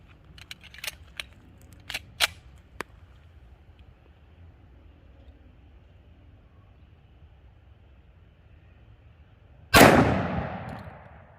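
A single loud .40 Super gunshot from a 5-inch Remington 1911 firing a 200 grain Underwood XTP at a spray paint can cracks near the end, after a few small clicks and handling knocks in a quiet outdoor setting.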